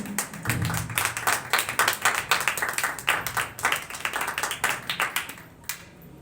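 A church congregation claps and applauds in praise during a worship service, dense overlapping claps at close range, swelling and then thinning out near the end.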